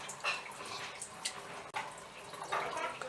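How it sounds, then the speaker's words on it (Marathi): Goat intestines swished once or twice in a basin of lime water for cleaning, giving soft, close sloshing and dripping splashes in a few uneven bursts with no talking. "आता चुन्याच्या पाण्यामध्ये आपण ह्या आतड्या थोडासा 1-2 वेळा हासडून घेऊयात"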